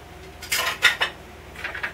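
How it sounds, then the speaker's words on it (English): Flour and spice being sifted for molasses cookies in a hand sifter, heard as a few short, scratchy metallic rasps in quick bursts, close and fairly quiet, with no talking. "we want to make sure that it's made smaller going through the sifter"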